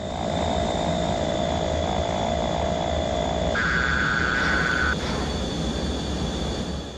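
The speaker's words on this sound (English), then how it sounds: "Our plane is entering a zone of turbulence." A fighter jet drones steadily through turbulence in the video game Over G Fighters, a constant loud engine roar with sustained tonal warning beeps that shift in pitch partway through.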